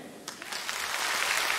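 Audience applause at a stand-up comedy show on the Stand-Up Revolution stage, a clapping crowd swelling from a modest start into a full, steady wash of applause.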